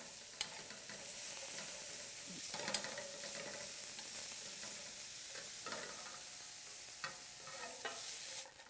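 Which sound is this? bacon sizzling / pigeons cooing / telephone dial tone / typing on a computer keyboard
bacon sizzling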